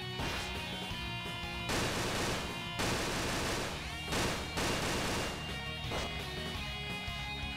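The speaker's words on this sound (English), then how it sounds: "Can I make a magic missile pass?" Game effects burst out during a magic missile pass in the Touhou Soccer 2 video game: loud, dense crackling blasts that repeat in several surges over a constant busy backdrop, with no voices.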